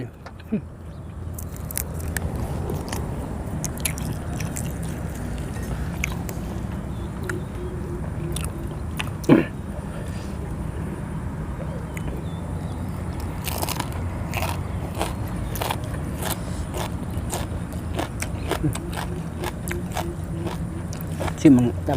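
Crispy roasted Thai pork tail being bitten and chewed close up, a run of sharp crunches and crackles scattered over a low murmur, with people talking throughout.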